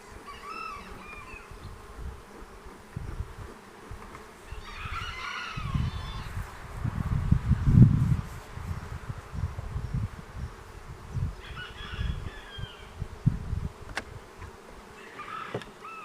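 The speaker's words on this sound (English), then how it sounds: "So here's the bees." Bees hum at a hive in a low, steady drone that swells and fades, growing loudest midway through, with occasional faint higher chirps over the buzz.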